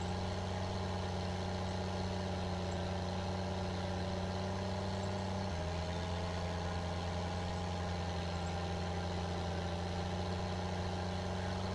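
A Case MXM190 tractor in Farming Simulator 22 drones at a steady, loud pull under load, its engine tone shifting once midway and then holding constant, with no voices.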